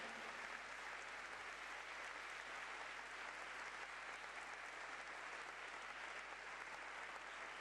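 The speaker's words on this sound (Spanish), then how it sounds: "Dale un fuerte aplauso a Él." Steady applause from a church congregation fills the space evenly from start to finish, a dense wash of many hands clapping with no voices over it.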